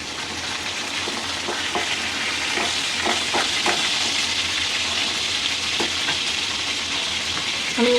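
Fish and spiny gourd frying in hot oil, a steady close sizzle with scattered pops and crackles running throughout, no talk.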